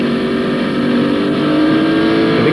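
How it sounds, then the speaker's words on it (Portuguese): A 1994 Honda-powered IndyCar-era race car engine of Bobby Rahal's roars continuously at a high, steady pitch, loud and close with no voices. "Isso aí é o Honda de Bob Rahal."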